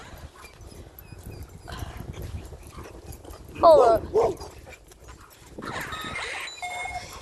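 A dog whimpers and yelps in short excited bursts on spotting another dog outdoors, heard near and loud mid-clip, with a person speaking briefly and faint background noise.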